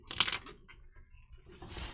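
A metal bearing, dropped while being worked out of an RC crawler's axle, lands on the ground with a single bright metallic clink and a short rattle. Quieter shuffling and handling noises follow.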